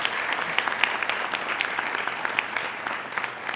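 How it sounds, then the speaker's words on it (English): An audience applauds steadily at a dean's list ceremony, dense clapping from many hands filling a large room, sustained at an even level throughout. "please give your family and friends a well-deserved round of applause"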